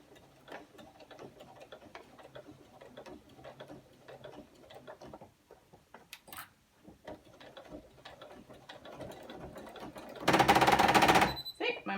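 Sewing machine stitching through bulky denim binding on a zip pouch, quiet rapid ticking stitches that stall and restart unevenly, with a brief loud noisy burst near the end.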